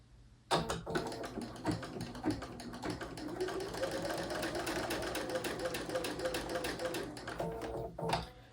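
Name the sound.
sewing machine chain piecing quilt fabric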